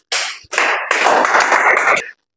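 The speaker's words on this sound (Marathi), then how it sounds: "ते टाळ्या वाजवत सगळ्यांनी" Brief burst of clapping from classroom students during a 10th-class maths lesson, a short pause and then a steadier round of claps, close and fairly loud, fading out after about two seconds.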